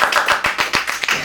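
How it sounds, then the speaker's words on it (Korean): A studio audience applauds a guest with a brief burst of dense, close, loud clapping. "자, 박수!"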